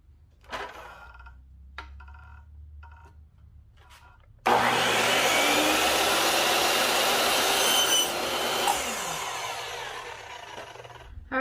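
A miter saw whines up abruptly and cuts through a wooden piece in a garage, a loud sustained buzzing grind lasting several seconds, preceded by quieter handling clatter.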